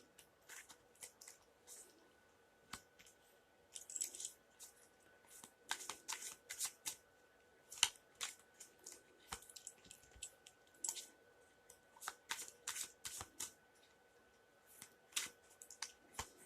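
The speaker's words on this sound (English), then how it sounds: "we're just going to give a couple quick shuffles and then a cut." Tarot cards being shuffled quietly nearby: repeated short riffling bursts with brief pauses between them.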